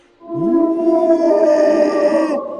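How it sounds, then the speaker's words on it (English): A loud, drawn-out animal howl near a cabin, rising sharply then holding a strong tonal wail for about two seconds before cutting off, close and without talk. "that turned into thunderous howls like I had never heard in my life"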